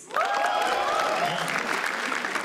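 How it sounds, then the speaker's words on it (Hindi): Audience applause at a live roast battle comedy show, a steady wash of many hands clapping that swells quickly and holds loud for a couple of seconds without a break. "ओंकार यादव के लिए तालियां प्लीज"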